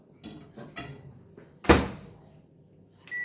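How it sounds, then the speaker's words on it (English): An oven door shuts in a home kitchen with a single firm thud after a few lighter knocks and clatters, followed by a short faint tone. "So, oven door,"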